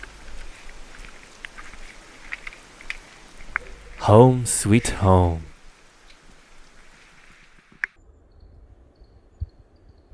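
Light rain patters softly and steadily on an abandoned little shelter in Patagonia, while a person speaks briefly in the middle; faint drips and ticks continue afterward.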